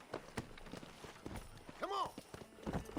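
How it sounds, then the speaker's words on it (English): Hoofbeats of a horse in the Red Dead Redemption video game, a quick run of clip-clop steps at close range, mixed with other game sounds and someone talking over them. "There's my horse."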